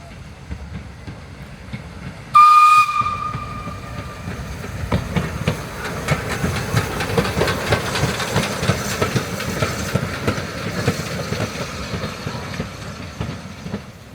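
Steam locomotive No. 3 running trackside on the Don River Railway in Tasmania, with a sharp whistle-like burst early on, then a steady rumble and clatter of rolling wagons and faint hiss throughout.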